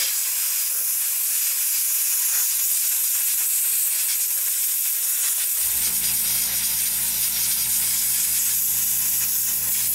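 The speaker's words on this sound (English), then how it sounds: "So what I'm gonna do is I'm just gonna dry it off with the airbrush." An airbrush blows a steady, loud hiss of air to dry paint on a model, running without pause and joined by a low, even hum partway through.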